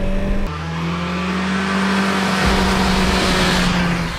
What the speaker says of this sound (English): the motor comes alive, and you've got to hang on, because it's fast